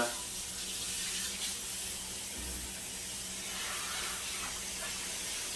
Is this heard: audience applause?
no